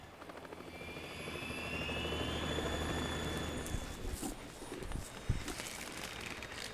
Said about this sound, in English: It's the Harrier.